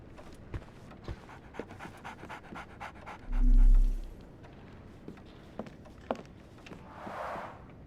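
A dog pants steadily in the game Sherlock Holmes The Awakened, quick rhythmic breaths close by, with a brief louder low thump midway and faint footstep-like taps scattered throughout.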